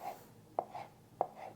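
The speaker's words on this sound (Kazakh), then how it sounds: "Келесі кезекте жұмыртқаларымызды турап аламыз." Boiled eggs are chopped on a board for a salad, with a few crisp knife strokes spaced out at an uneven pace, quiet and close.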